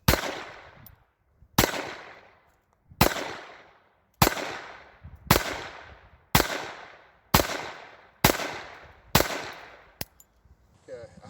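Nine sharp gunshots from a Phoenix Arms HP 22 pistol fired at a target, spaced roughly a second apart, each a loud crack with a short decaying echo, close to the microphone.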